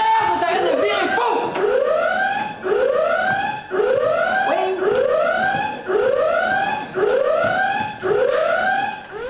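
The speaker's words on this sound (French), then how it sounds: "coupez-moi cette alarme de merde" A spaceship alarm sounds loudly in a comic sci-fi stage production, a repeating rising electronic whoop that cycles about once a second, close and dominant throughout.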